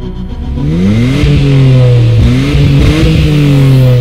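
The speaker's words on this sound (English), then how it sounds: "It sounds awesome." Completely unmodified R34 Nissan Skyline GT-R engine revving, a loud close roar that climbs and drops through several blips of the throttle, alone with no talk.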